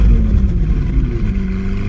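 A Lamborghini Aventador engine in the Roblox game Driving Empire revs with a steady, loud, low droning roar that holds throughout without pause.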